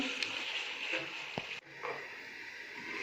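Mixed vegetables with fenugreek and a splash of water cook slowly in a pan, giving a faint, steady sizzle and soft bubbling with an occasional light stir or clink.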